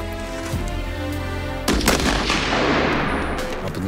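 A rifle shot at shooting practice in an Arctic polar bear safety exercise: one loud, sharp report near the middle, followed by a broad rumbling decay over steady engine-like background hum.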